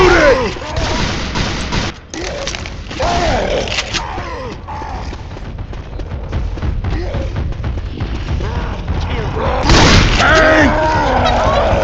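Gunfire and heavy explosions boom and crackle in rapid bursts as players shoot at a tank in a video game, with loud excited voices talking over the din.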